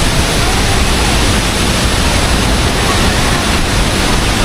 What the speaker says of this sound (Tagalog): sisilipan na natin yung mother falls